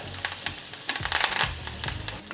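Mustard seeds, cumin, crushed chili and curry leaves fry in hot oil with a close, crackling sizzle and scattered sharp pops that bunch into a denser burst midway.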